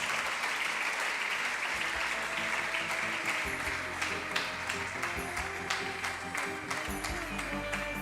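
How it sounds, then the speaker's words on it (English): Sustained applause from a large crowd at a National Science Day valedictory ceremony, steady and dense throughout, with scattered louder claps standing out. "Give them a big round of applause."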